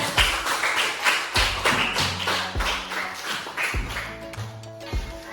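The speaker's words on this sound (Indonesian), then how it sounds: "Tepuk tangan buat udah" Students in a classroom clapping in unison in short, rhythmic bursts of hand claps, fairly close and moderately loud, with a few faint voices mixed in.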